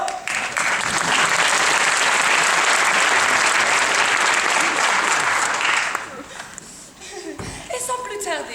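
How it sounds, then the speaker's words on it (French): A school show audience claps loudly and continuously for several seconds, then the applause thins out and fades, with a few scattered voices and laughs at the end. "On les applaudit bien fort."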